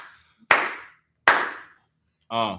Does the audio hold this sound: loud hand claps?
yes